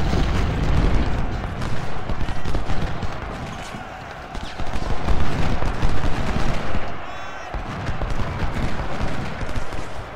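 Rifle fire rattles across a battle in the Ultimate General: Civil War video game. Continuous loud crackling volleys mix with deeper booms, swelling and easing in waves throughout.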